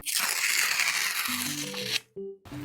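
A sticker package is torn open in one long, close, crinkly rip lasting about two seconds, followed by brief rustling of plastic.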